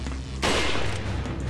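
A gunshot in the video game Resident Evil 4, one loud burst with a sharp onset and a dense, sustained rumbling tail over steady game background noise.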